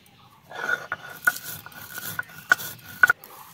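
A spice mix for sweet-sour-spicy raw mango naru is ground fine, giving irregular gritty rasps and sharp clicking knocks at close range with no talk.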